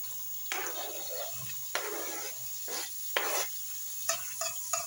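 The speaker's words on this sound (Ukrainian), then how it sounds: "Цибульку я покришила і відправляю на розігріту сковорідку." Chopped onions sizzle in a preheated pan with a steady crackling hiss, punctuated by several scraping bursts of stirring.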